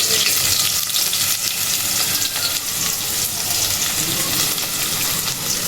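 Onion frying in a pan with cumin and chopped garlic, a steady loud sizzle and crackle that runs continuously without pause.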